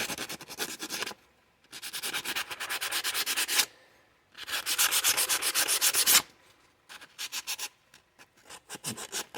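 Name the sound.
scrubbing a revolver dry during cleaning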